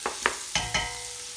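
Onions and chicken sizzling in butter in a pan, with a few sharp stirring clacks over a steady frying hiss, close and fairly loud, no talking.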